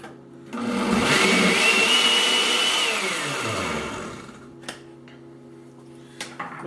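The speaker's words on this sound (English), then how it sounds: "Blend this up." A countertop blender whirs loud and steady for about three seconds as it purées sweet chili sauce ingredients with vinegar, honey and salt, its pitch rising and then winding down, followed by a few small clicks and knocks.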